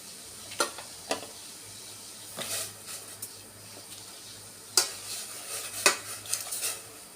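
In a home kitchen, pots and utensils are moved around while water is set to boil for blanching noodles and greens; sharp metallic clinks and knocks come at irregular intervals over quiet background noise.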